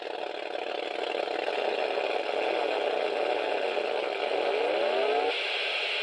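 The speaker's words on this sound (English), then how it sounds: "let me press the gas button. Let's see if this thing revs up." A 1980 Kenner Redline electronic drag racing game produces a synthetic engine drone that holds steady and then sweeps upward in pitch as it revs, a continuous buzzy electronic whine.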